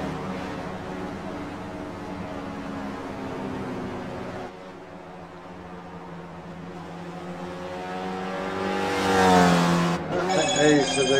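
Race cars drive around a circuit under commentary, a steady engine drone that dips midway and then swells into a rising, whining pass near the end.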